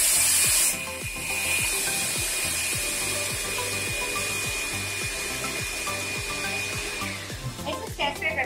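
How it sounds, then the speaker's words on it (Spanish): A blender grinds sesame seeds in a sealed container, a steady motor whir with a rapid rhythmic rattle of seeds hitting the blades, close and continuous for several seconds after a brief higher start. "lo voy a colocar en el licuador y procedo entonces a moler"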